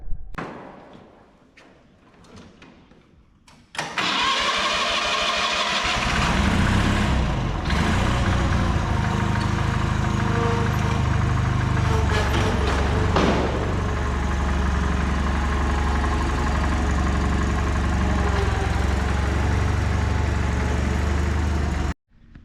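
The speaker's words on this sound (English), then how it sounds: "So that way I can move the tractor backwards." A tractor's engine starts up and idles loudly while the tractor reverses, a steady deep diesel rumble with a few clunks and thumps along the way, running after a short quieter stretch at the start.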